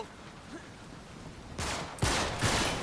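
Video game gunfire in Uncharted 3: after a quiet stretch, loud rapid volleys of shots break out and continue in dense bursts, close and overlapping, with no voices.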